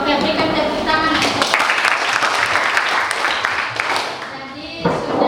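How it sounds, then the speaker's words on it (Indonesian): High school biology class students clap together in a loud, close burst of applause that continues steadily for about five seconds, with some voices mixed in before it tapers slightly near the end. "Oke, berikan tepuk tangan."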